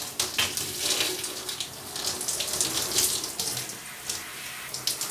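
Water runs steadily from a tap while African black soap is rinsed out of hair, a close, continuous splashing hiss with no talk.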